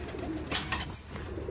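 Pigeons coo softly in a coop or loft, low rounded calls repeating a few times at close range with faint background noise.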